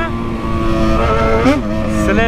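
Yamaha XJ6 motorcycle engine accelerating on a ride, a loud close-up harmonic engine tone that climbs in pitch, dips briefly with a shift, then rises again under wind noise.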